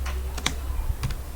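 Keys on a computer keyboard clatter in short bursts as commands are typed, over a steady low hum, with no talking.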